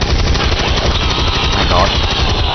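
Gunfire in XCOM 2 video game, a dense continuous rattle of automatic weapon fire, loud and close throughout a short burst.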